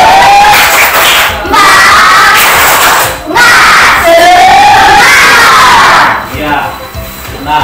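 Children in a classroom cheer and shout loudly together in three long bursts with short pauses between them, probably along with clapping, and the crowd of young voices fills the room.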